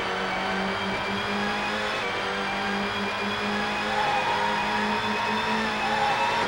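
Race car engines in the Nintendo 64 game GT 64: Championship Edition drone loud and continuous, holding a steady buzzing whine that rises a little in pitch as the car accelerates, with no music or voices.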